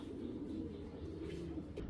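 Racer pigeons of Belgian and Dutch bloodlines coo softly and continuously nearby, a low rolling murmur with no talk over it.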